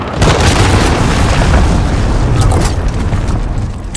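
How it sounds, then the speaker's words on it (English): A cruise missile strike in Call of Duty: Modern Warfare 2019 lands with a loud, rumbling boom that sustains as a heavy roar for several seconds, with crackling debris on top, in a Team Deathmatch game. "Allied cruise missile."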